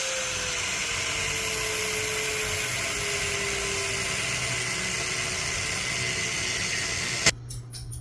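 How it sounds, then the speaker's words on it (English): A power cutting tool grinds steadily through the top of an old dehumidifier's compressor during scrapping. The whine is loud and continuous for about seven seconds, its pitch sliding slowly, then it cuts out abruptly. "time to cut the top of the compressor open"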